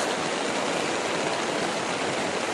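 Flood water rushes steadily through Metro Manila, a loud, continuous broadband wash of flowing water with no pauses and no talk.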